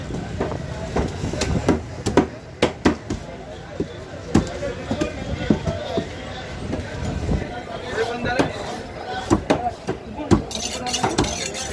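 A knife chops an emperor fish into pieces, with sharp, separate thuds on a board at an uneven pace under steady background noise and voices talking.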